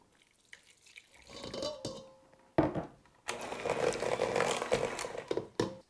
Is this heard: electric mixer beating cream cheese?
yes